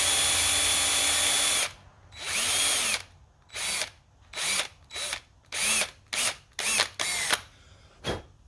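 A power drill boring a hole during a thrust washer repair on a Triumph Spitfire, beginning with one long close whir and then breaking into about ten short bursts of drilling with quiet gaps between them.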